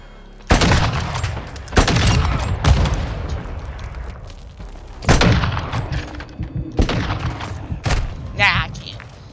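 Loud, close gunfire from a sniper match in Call of Duty: Modern Warfare 2, several heavy booming shots spaced a second or two apart, with scattered rattling bursts in between.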